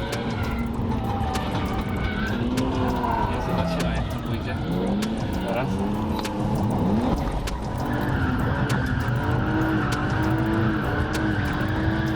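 A car with a loud, booming exhaust rumbles and revs nearby, with tire noise and people talking over it throughout.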